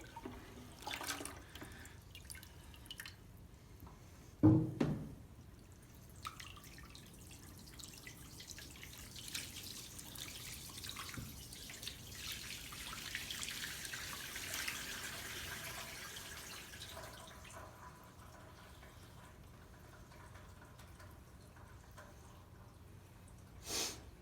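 Water poured over a model floodplain with a levee protecting a cluster of model homes, trickling and splashing steadily with a sharper splash early on, fairly close and without talk.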